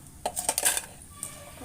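A quick series of light crisp clatters and rustles as crunchy fried tapioca chips are scooped out with a metal utensil, close by and fairly quiet.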